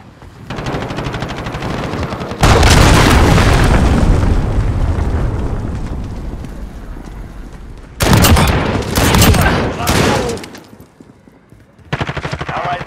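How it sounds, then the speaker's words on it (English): Explosions and heavy gunfire fill a Call of Duty: Modern Warfare team deathmatch, with loud sustained bursts of rumbling blasts and rapid shots that break off abruptly and resume, close and dense. "Allied cruise missile launched."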